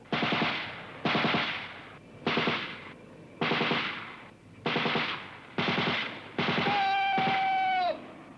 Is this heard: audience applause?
no